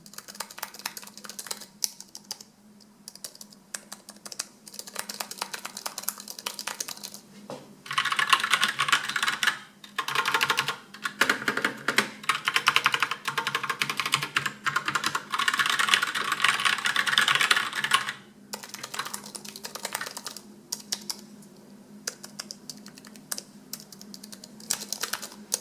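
Typing on a mechanical keyboard with black switches and on a thin scissor-type keyboard, a continuous dense patter of key clicks that grows louder and busier midway before easing off again, with no talk.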